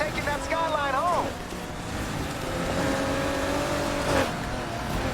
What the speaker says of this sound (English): it sounds like a V8, but it could be a V6 too